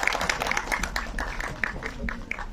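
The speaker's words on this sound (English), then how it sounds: "Can we have a huge round of applause for the entire Star cast" Audience applause for the star cast at the Ek Villain Returns press meet in Delhi, a quiet, rapid patter of scattered claps heard through a faint room.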